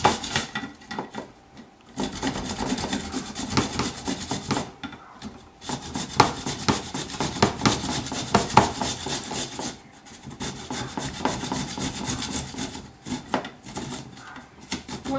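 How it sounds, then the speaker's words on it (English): Pumpkin being grated by hand on a grater, a steady run of scraping, rasping strokes in quick rhythm with brief pauses between bursts, close and moderately loud with no talking. "what we're going to do now is grate the pumpkin. So just use a grater"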